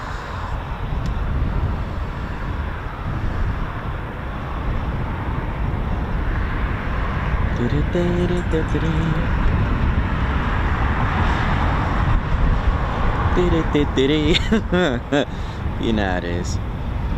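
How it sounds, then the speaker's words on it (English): A Eurofighter Typhoon FGR4 jet engine spools up at RAF Coningsby, a steady distant roar with rising whining tones, heard under someone talking. "Can actually hear the Typhoon spooling from the other side"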